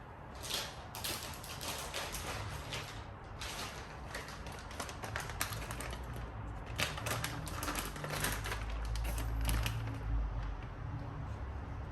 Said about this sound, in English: go ahead and grab the Hansshow wires and start connecting all the wires